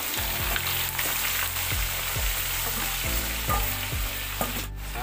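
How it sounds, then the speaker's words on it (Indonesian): Medan anchovies frying in oil left over from cooking eggplant, a loud steady crackling sizzle with rhythmic stirring scrapes throughout. "dengan minyak yang sama ini kita goreng teri medannya."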